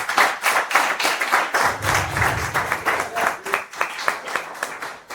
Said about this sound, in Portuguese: Dá uma salva de palmas do Senhor e para Deus.